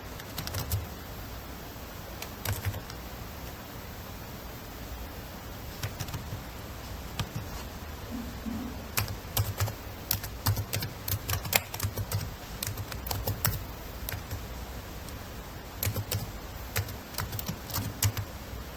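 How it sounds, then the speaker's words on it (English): A web link being typed on a computer keyboard: a steady run of light key clicks in quick bursts with short pauses, close and fairly quiet, with no one talking. "so now you're going to insert your link, so you need to type them out."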